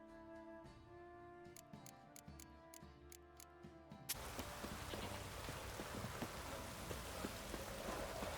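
Quiet ticking and a humming drone in the video game The Witcher 3 give way abruptly to a steady rush of heavy rain that continues with faint patters.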